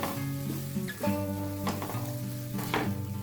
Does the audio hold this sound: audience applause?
no